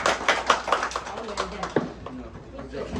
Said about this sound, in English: Clap for Dr. Sultan.